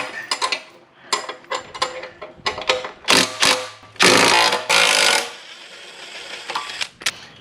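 Bolts on a Mongo high-inertia mulcher being worked loose with a 19mm wrench: repeated close metallic ratcheting clicks and clanks in irregular bursts, with a few louder sustained scraping rattles, no talking.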